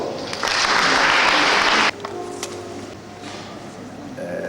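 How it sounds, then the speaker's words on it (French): An audience applauds loudly at a results ceremony for a secondary school competition, a dense burst of clapping that cuts off abruptly and leaves quieter room noise. "Je voudrais qu'on applaudisse très fort."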